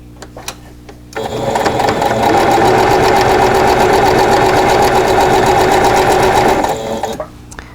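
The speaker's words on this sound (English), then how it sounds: "I'm going to sew along that line" A sewing machine runs steadily for about six seconds, loud and close, stitching a quilt block along a drawn line, starting and stopping abruptly.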